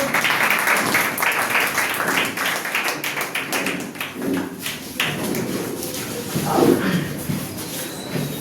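Students applaud at a coaching-class result ceremony to welcome a guest biology teacher, a dense, sustained round of clapping from a room of children that swells and fades with some voices mixed in.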